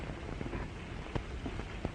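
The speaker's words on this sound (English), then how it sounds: "Oh, is it raining outside?" Steady rain patters on a surface, a dense even hiss with a couple of louder drips standing out.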